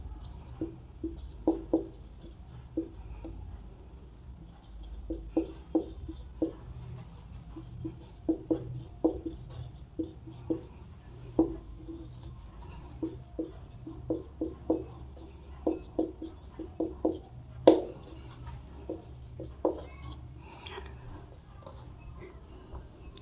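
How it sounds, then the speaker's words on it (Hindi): A maths formula is written out by hand, steady scratchy pen strokes in short bursts with brief pauses, close and quiet over a low background hum. "इसका सूत्र लिख देता हूं मैं"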